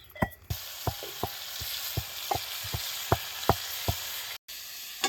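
Drumstick pods (shevga) fry in oil in a kadhai, a steady sizzle punctuated by about a dozen sharp taps and knocks of a stirring spoon. Near the end there is a brief dropout.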